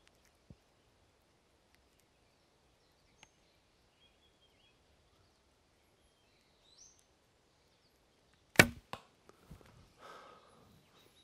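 A traditional bow string is released and an arrow shot, a sharp loud snap very close up, followed by a brief rattling decay and a few quieter ticks.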